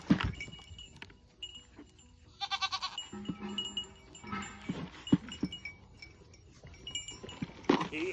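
Goats bleat repeatedly at close range, mixed with scattered clatter and a faint metallic ringing like a bell, with no talking.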